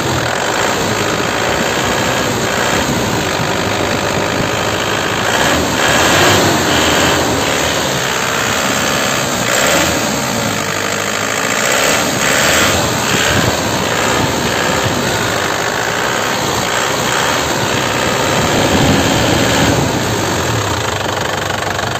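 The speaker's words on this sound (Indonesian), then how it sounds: "mesinnya sudah kita gas-gas, nggak ada asap sama sekali ya" An LS Turbo car from 2007/2008 with its engine running and being revved, a loud, continuous close-up engine roar with slight swells and vibration throughout, no voices.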